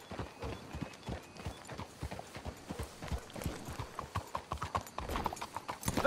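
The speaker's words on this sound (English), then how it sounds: "Let's hitch your horses up ahead." Horses' hooves clip-clopping in Red Dead Redemption 2, a steady rhythmic patter of many hoof strikes at moderate distance, fairly faint and continuous with no talk over it.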